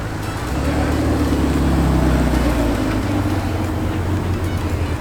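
A McLaren 720 sits running nearby, its engine giving off a steady, deep low rumble with a constant droning hum and no sharp revs.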